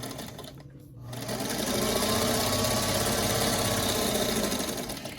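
A sewing machine stitches a seam on a quilt block for a schoolhouse pattern, starting after a brief pause and then running in a steady, close, even mechanical whir.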